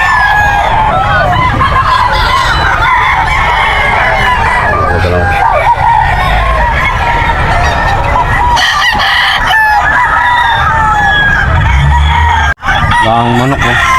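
Roosters crow repeatedly and loudly at a busy Bocaue pet market, long drawn-out calls with clucking fowl close by, and people talking underneath throughout.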